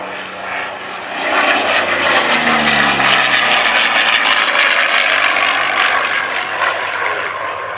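A P-40 Kittyhawk warbird flies at Cosford, its piston engine a loud, steady propeller roar that swells after the first second and holds on, rough and droning.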